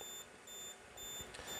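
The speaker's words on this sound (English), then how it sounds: "When we pass over 60 degrees, the device will activate a warning buzzer" The over-temperature warning buzzer on an ATTiny13 fan controller with an LM35 sensor beeps in a steady on-off pattern of several short high-pitched tones over faint background noise.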